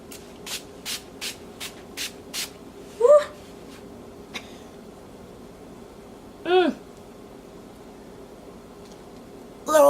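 Six quick, evenly spaced spritzes from a makeup setting spray bottle close by, followed by a few brief vocal sounds.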